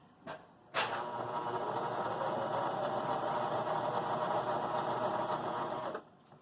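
A Baby Lock Joy sewing machine stitches a wider zigzag in one steady, continuous run of about five seconds, a close and even mechanical whir that starts and stops cleanly, with no talking.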